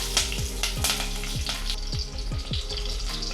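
Shahjeera and green chillies crackle and sizzle in hot oil in a pan, a steady frying hiss broken by a run of sharp pops and spits, close and fairly loud with no voices.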